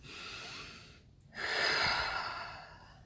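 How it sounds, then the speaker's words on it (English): A deep breath drawn in, a short pause, then a long exhale, close and clear with no talking, during a guided EFT tapping exercise. "Deep breath in and out."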